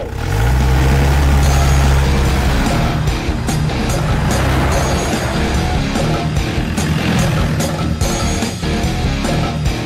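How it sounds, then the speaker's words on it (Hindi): A car driven off in a South Indian action film dubbed in Hindi, a loud engine revving and accelerating away over a dense, busy mix of noise. "गाड़ी निकालो, गाड़ी निकालो।"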